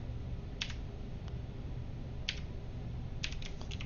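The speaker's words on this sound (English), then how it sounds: "On my loud green clicky keyboard that I just absolutely love." Sparse bursts of keystrokes on a loud green clicky mechanical keyboard, sharp close clicks in small clusters separated by pauses over a low steady background hum, with no talking.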